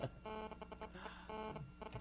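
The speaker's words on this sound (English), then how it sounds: "Whose cell phone is that?" A cell phone rings in a radio studio during a Wilco webcast session, a quiet repeating electronic tone pattern with faint room noise around it.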